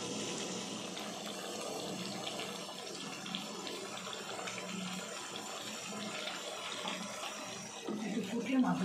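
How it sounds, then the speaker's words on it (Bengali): Water pours steadily into a cooking pot to boil rice, a continuous trickling wash heard at moderate level, with some splashing and stirring toward the end. "চালটা একটু সেদ্ধ হওয়ার জন্য জলটা দেবো"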